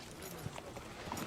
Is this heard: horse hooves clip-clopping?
yes